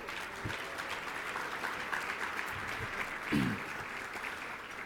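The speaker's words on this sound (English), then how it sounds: "Let's give them a round of applause." Audience applause for the meal sponsors at a closing session dinner, a steady wash of many hands clapping throughout with a brief swell near the end.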